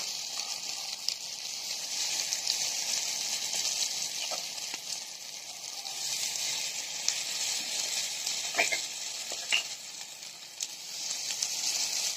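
Spicy instant rava paniyaram batter cooks in the wells of a kuzhi paniyaram pan, giving a steady close sizzle with faint pops and crackles that carries on throughout, with no one speaking.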